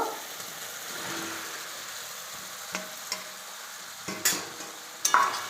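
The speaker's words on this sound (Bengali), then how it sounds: "খুন্তি দিয়ে ভালো করে নেড়ে নেব।" Soybean chunks fry in a pan for a curry, a steady low sizzle broken by a few sharp scrapes and clinks as a metal spatula stirs them, the loudest knocks near the end.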